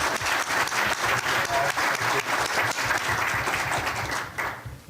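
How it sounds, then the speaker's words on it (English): A debate audience at a City Club event gives a sustained round of applause, dense steady clapping from many hands that holds evenly and then starts to thin out near the end. "Let's give everybody a round of applause."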